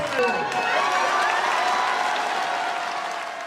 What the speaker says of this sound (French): une foule de 1000 personnes l'acclament